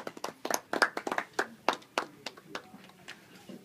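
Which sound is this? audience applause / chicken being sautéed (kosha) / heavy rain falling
audience applause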